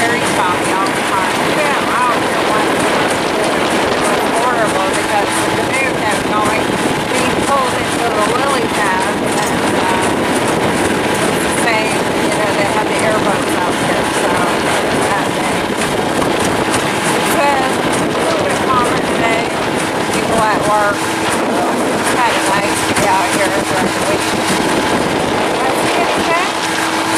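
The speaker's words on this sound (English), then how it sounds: "It's very choppy and windy." Steady gusting wind roars against the microphone over rough, splashing choppy lake water, with a continuous droning rumble that could be a boat motor underneath.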